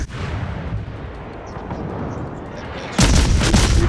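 Warship guns boom in a World of Warships naval battle, a steady rumble of distant gunfire followed by a loud, heavy barrage at the end.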